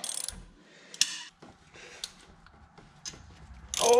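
Rusty bolt being loosened on the engine of a 1978 GMC K25 truck, a series of sharp ratchet clicks and metallic ticks spaced irregularly, close and fairly quiet, ending with a louder scrape.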